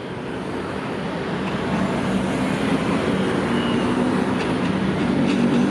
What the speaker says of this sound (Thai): ขบวน44นะครับสุราษฎร์ธานีกรุงเทพโดยรถ